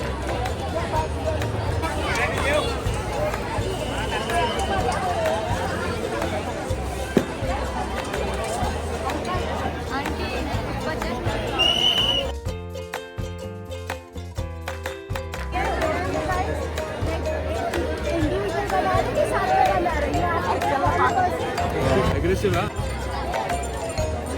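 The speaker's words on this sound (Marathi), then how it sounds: "बघू शकता एवढी गर्दी आहे" Dense crowd chatter at an outdoor art festival, a steady busy hubbub of many voices, nearby and loud, with a brief dip in the middle before the babble returns.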